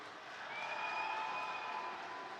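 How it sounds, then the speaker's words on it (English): A crowd at the EVO 2022 Multiversus esports tournament applauds and cheers in a steady, distant wash of clapping and voices. "Oh, some support still on the crowd for both sides."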